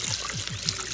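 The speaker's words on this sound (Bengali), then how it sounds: "যেটা শেলু থেকে জল পড়তেছে" Water trickling down from rock near a farmhouse, a soft, close patter of rhythmic drips over a constant gentle wash of falling water, with no voices.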